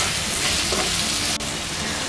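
Okra and potato pieces with salt frying in a kadai while being mixed, giving a dense, continuous hiss of sizzling with one brief click near the end, close up and without talk.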